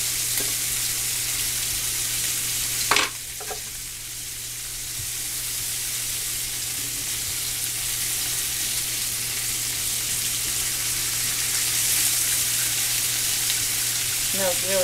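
Apples and onion sizzle and fry steadily in a pan on the stove, a continuous close hiss with a brief clatter of stirring early on.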